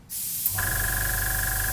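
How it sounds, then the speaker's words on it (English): An airbrush spraying, driven by an old air compressor that has run for about forty years: a steady, close hiss begins after a short quiet start, with the compressor's low hum underneath and a constant tone. "Okay, you're spraying away."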